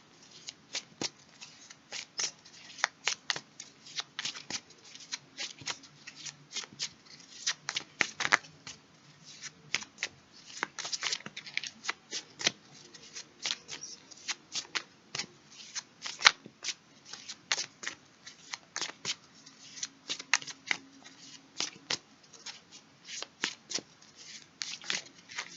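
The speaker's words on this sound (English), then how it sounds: "I just got this deck, so we're going to be doing a lot of reading with it" A new tarot card deck is shuffled by hand again and again, giving off crisp irregular bursts of riffling and flicking card sounds that come close up over a quiet room, with no talking.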